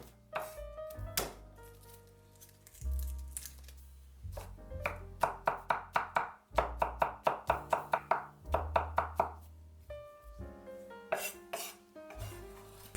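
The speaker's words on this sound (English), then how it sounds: "Chop 20 grams of garlic." Garlic and cilantro are chopped with a knife on a board in quick runs of sharp, close knocks. Rhythmic bursts are separated by pauses and occasional clatter from handling the blade.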